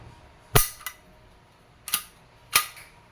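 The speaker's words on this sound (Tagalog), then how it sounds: "This is your unit, the Glock 17 Gen 3 Airgun Pistol by Umarex." Three sharp pops from an Umarex Glock 17 Gen 3 airgun pistol, each a crisp close crack with a short metallic tail, spaced roughly a second apart, the first two followed by a faint mechanical click.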